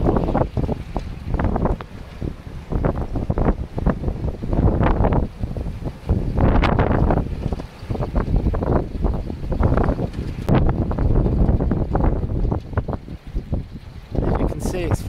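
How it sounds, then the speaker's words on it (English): Strong, gusty high wind buffets the microphone outdoors near a 48 V 1 kW electric bike hub motor wind generator, with loud roaring rushes rising and falling throughout and no clear talk. "the wind's getting up"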